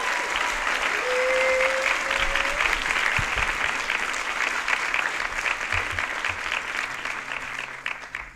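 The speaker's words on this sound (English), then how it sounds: "So a round of applause for the class of" A commencement audience applauds the graduating class of 2024 in a large venue, a broad sustained roar of clapping that slowly tapers toward the end.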